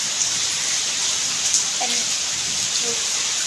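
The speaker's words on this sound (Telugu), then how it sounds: "జోర్ వానా. సో నేను అంబ్రెల్లా వేసుకుంటాను." Heavy rain pours down in Bangalore, a dense, even hiss of falling water that fills the whole stretch with no pauses and no voices.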